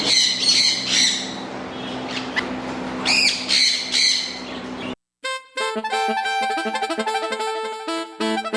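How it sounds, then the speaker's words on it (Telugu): Various birds squawking and calling in a pet shop, loud shrill squawks and chirps for several seconds, then a brief gap followed by dense, rapid overlapping tweets and chatter. "చూసుకోవచ్చు ఎన్ని రకాల బర్డ్స్ ఉన్నాయి, సూపర్ యాక్టివ్గా ఉన్నాయి బర్డ్స్ అన్ని."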